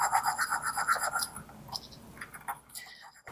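Cinnamon and sugar stirred together in a bowl for cake batter topping, giving a run of soft, quick scratchy strokes with a brief pause near the middle before the stirring resumes.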